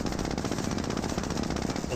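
Gunfire in the Company of Heroes strategy game, aimed at the Captain Grad unit, forms a dense, steady rattle of shots. It runs throughout at a moderate level under a busy battle mix.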